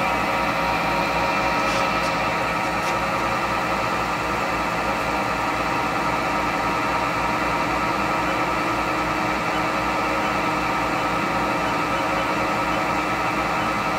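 The spindle of a Haas VF0 vertical machining center runs at 1,000 RPM, giving a steady, even mechanical hum with a faint whine that holds unchanged throughout, with no talk.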